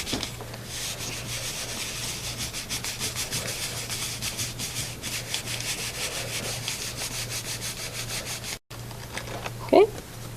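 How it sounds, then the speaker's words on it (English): Corrugated cardboard rubbed against a gelli printing plate gives a steady, continuous close rasping rub that lasts several seconds, pauses briefly, then returns with a short louder scrape. "I'm going to rub it into the plate."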